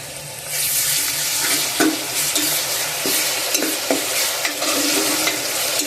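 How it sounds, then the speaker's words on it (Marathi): Ginger garlic paste frying with golden-brown onions in a pan for a home-style chicken gravy, with a steady loud sizzle and a few sharp stirring scrapes throughout, no voices. "यात टाकून आपण अद्रक लसूणची पेस्ट टाकूया"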